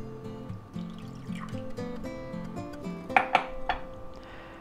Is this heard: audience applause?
no